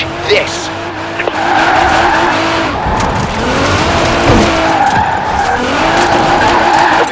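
In the racing game Forza Horizon 4, a car drifts with the e-brake feathered, its engine droning loudly and its tires squealing continuously through long sliding turns.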